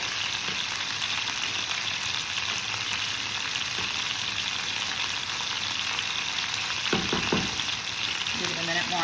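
Food deep-frying in hot oil until browned and crispy makes a dense, continuous sizzle close by, with a short clatter of stirring near the end and no speech.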